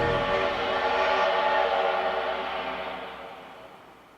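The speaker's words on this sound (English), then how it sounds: "The Polar Express let out a loud blast from its whistle and sped away." The Polar Express steam train gives a long, loud whistle blast over rumbling wheels, the sound slowly fading as the train speeds away.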